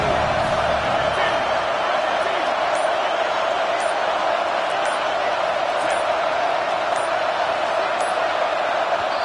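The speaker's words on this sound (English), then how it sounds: "Decibels rising as the crowd gets behind this defense on third down" A packed football stadium crowd roars for the defense on third down, a dense, loud, sustained wall of cheering and noise with no breaks, at a college game between Oregon and Ohio State.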